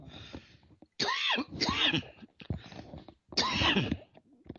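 A man coughs in several harsh, loud bursts close to the microphone, separated by short pauses and quieter breathy throat sounds.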